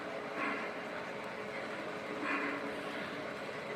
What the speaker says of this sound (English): we're going to pull these train cars out and run the Conrail Heritage ES44